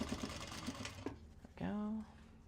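A domestic sewing machine runs in short bursts while top stitching a bag made of Japanese fabric, its motor whirring briefly and then holding a steady hum for about half a second, with someone talking around it.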